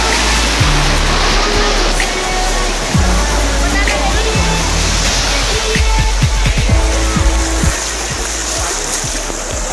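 Ocean waves at Claudina Beach, Goa, a continuous loud wash of surf close by with scattered splashes and thumps over the steady roar.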